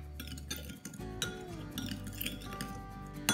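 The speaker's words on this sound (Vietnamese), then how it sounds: "Mình đánh cho nó tan đường đi ha." A spoon clinks against a bowl while stirring sugar until it dissolves, making light, quick ringing taps that repeat over steady kitchen background sound.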